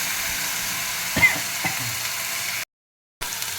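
Spice paste frying in a pan with steady low sizzling and a couple of scraping stirs, then a brief cut to silence before the sizzle resumes.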